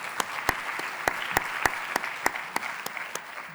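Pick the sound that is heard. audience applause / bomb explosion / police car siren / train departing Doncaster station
audience applause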